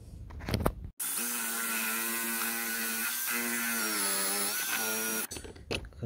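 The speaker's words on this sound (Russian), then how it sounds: "Короче, буду сверлить." A power drill bores through a part for a homemade apple press and crusher, a steady high whine holding for about four seconds with small pitch dips, starting and stopping sharply between quieter handling noises.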